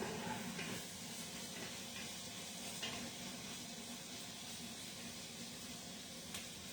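Onions fry in a pot with a continuous, fairly loud sizzle and hiss, light crackles and stirring scrapes scattered throughout, heard close with no talking.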